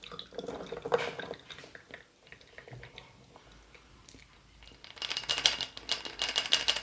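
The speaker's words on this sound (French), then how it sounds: "Et on verse tout ça dans notre verre." A Hpnotiq cocktail with pineapple juice is poured from a small shaker into a glass. Faint clinks and liquid sounds come first, then a louder, bright splashing pour with ice rattling at the end.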